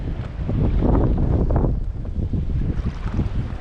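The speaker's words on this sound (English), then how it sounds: "the wind is blowing so hard it's blowing me to the left" Strong wind roars and buffets a microphone continuously on a kayak on a lake in December, a loud low rumble with gusty swells and faint water splashing underneath.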